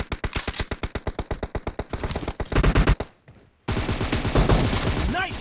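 Automatic weapon fire in the PUBG Mobile game, a rapid even burst of loud close shots, then denser heavier firing, a brief silence, and more gunfire with game effects afterward.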